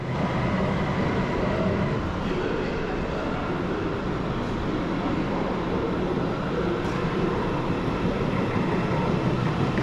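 German ICE4 high-speed train at a platform, a steady loud broadband rumble and hiss holding for the whole stretch with no clear breaks or announcements.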